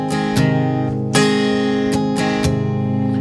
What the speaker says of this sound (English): That little half muted sound really gives it a cool,